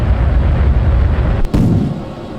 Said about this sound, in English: I turned on the liquid fuel engines because I'm about to lose my boosters.